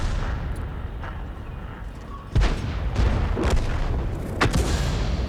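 French artillery guns fire in World of Tanks, a few heavy booms spaced seconds apart over a low rumbling battlefield backdrop, with a sharp close blast near the middle.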